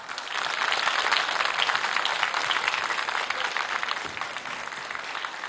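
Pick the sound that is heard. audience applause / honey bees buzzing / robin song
audience applause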